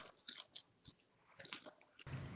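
Teeth biting into a crispy, flaky baked chicken siew pau bun about two hours after coming out of the oven: several close, crackly crunches with short pauses between, then a soft rustle.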